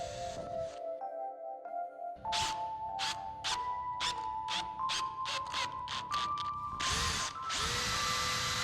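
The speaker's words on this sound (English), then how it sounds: "Make sure you pre-drill holes with 1/8 inch drill bit for the needed screws." A power drill bores screw pilot holes with a 1/8 inch bit for an aluminum gate kit, a steady whine broken by repeated short bursts of drilling, close and fairly quiet, with no talking.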